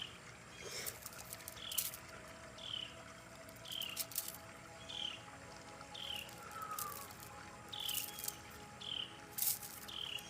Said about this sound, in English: The birds are helping this morning.